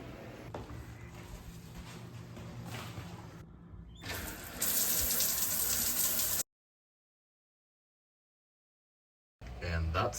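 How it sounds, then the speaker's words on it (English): A shower runs in a college setting with a steady broadband hiss of falling water that gets louder partway through, cuts to silence for a few seconds, then resumes. "Now I'm gonna hopefully try to shower"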